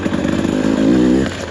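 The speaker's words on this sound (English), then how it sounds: "So easy to just give it a little twist." A brand-new 2024 Husqvarna TE300 two-stroke dirt bike engine revs up sharply as the light throttle is twisted, a loud, close buzzing rise lasting just over a second.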